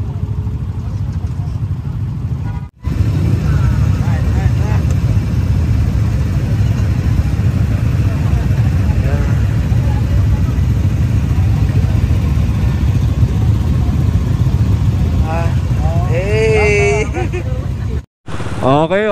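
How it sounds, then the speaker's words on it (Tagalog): A motorcycle engine idles steadily while warming up before an endurance ride, a low continuous rumble under nearby people talking, cut by two short breaks. "tamang painit na ng makina"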